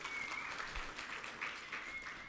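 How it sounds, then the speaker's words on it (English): Delegates at a conference applaud themselves in a brief round of clapping. The sound is steady and moderately distant, with faint voices underneath. "You deserve a round of applause."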